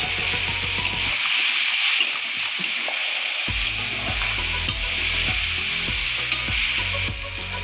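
Tomatoes hit a pan of frying Bhola fish curry, giving a loud, steady sizzle with repeated spatula stirring and scraping close by throughout.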